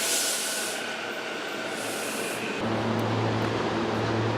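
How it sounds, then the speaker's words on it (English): An Amtrak passenger train pulls out of a station, a steady rushing hiss giving way to a deeper rumbling drone as it gets moving, close and fairly loud with no talking. "The train is actually still right there, but oh, there it goes"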